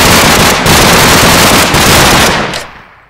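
Loud AK-47 automatic fire in a modded Minecraft FTB pack, a continuous close burst that barely pauses for about two and a half seconds before cutting off and fading.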